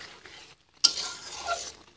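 A spatula scrapes and stirs fried potato, fried cauliflower and fried egg in a pan over low to medium heat, a sharp scrape after a brief pause followed by soft sizzling, close and fairly quiet.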